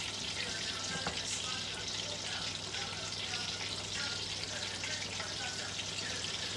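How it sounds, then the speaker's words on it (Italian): Food sizzling in a frying pan as it is turned over in a Sardinian home kitchen, a steady broadband hiss and crackle that holds throughout at moderate level without pause. "stiamo friggendo, chiaro quello, no?"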